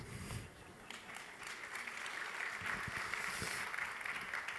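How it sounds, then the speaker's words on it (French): Applause from the audience at an EDF talk on the low-carbon, electric smart city, rising into a dense, continuous patter of clapping that holds at moderate loudness to the end, with no voices over it. "N'hésitez pas à applaudir."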